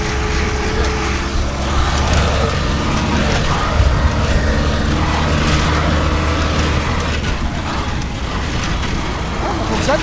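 A small engine of about thirty horsepower in a Citroën half-track runs steadily and loudly at a summer vintage vehicle crossing of Paris, with a continuous rumbling drone close by.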